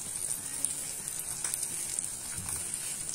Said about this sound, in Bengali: দেখতে পাচ্ছেন ভাজা হচ্ছে।